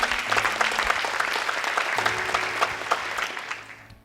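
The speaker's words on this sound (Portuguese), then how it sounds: "Dê um aplauso bem forte." Loud, sustained applause from a church congregation during a sermon, with dense clapping filling the space and tapering off near the end, with a faint voice underneath.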